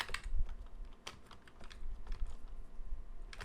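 Code being typed on a computer keyboard: a quick, uneven run of close, crisp key clicks with brief pauses, no talking.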